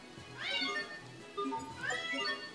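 A cat meows twice in Tales of Graces f, two clear, close, rising-and-falling calls separated by a short pause over quiet game music.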